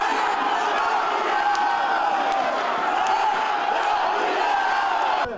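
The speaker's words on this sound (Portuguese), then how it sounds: "E restando apenas um quesito, a plateia já gritava" A carnival audience at a samba school parade shouts and cheers for the champion school, a dense, sustained roar of many voices with whoops and chanting, steady and loud throughout.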